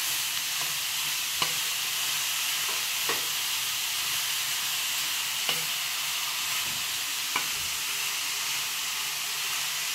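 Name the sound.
grated carrot being sautéed in ghee for halwa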